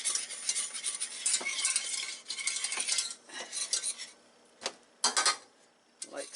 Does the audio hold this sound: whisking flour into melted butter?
yes